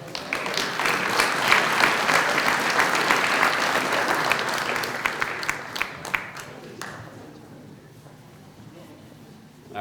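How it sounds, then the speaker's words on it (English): Audience applause for honorees at a community relations awards ceremony: a loud, full burst of many hands clapping that gradually thins out and fades toward the end, leaving a quieter room. "Let's have another round of applause for all of our honorees."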